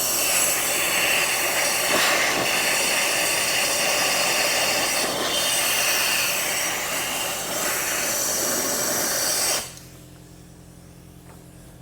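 Compressed air hisses loudly and steadily into a seized GPZ motorcycle engine for about ten seconds, then cuts off abruptly, leaving quiet.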